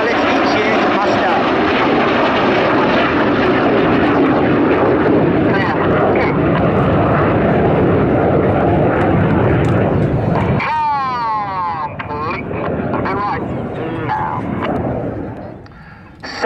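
Red Arrows RAF aerobatic jets roll around in formation display flight, producing a loud, sustained roaring jet rush that fades after about ten seconds, when a voice starts talking over the quieter remaining engine noise.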